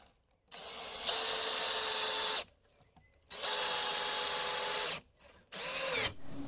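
A power drill drives chunky wafer head screws into timber joists to assemble half ladders during a stone house renovation in central Portugal: three loud, whining bursts with short quiet gaps between them, no voices.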